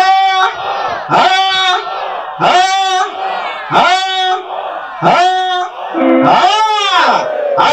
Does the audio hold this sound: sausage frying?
no